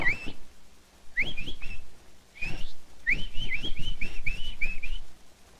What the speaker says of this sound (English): Ever heard the nightingale?